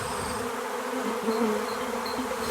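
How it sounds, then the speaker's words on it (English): Honeybees swarm out of a hive entrance in a steady, dense buzzing drone, close and loud, with individual bees whining past over the constant hum and no voices. "the bees started coming out of the hive"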